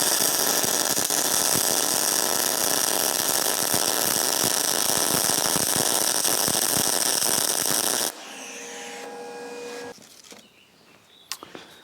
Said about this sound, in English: So we did a couple of full power welds.